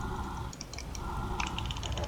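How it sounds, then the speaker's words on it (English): Rapid, dense clicking of computer keys and buttons during a video game, a steady close-up clatter running continuously with a little background game sound. "You guys hear me clicking, right?"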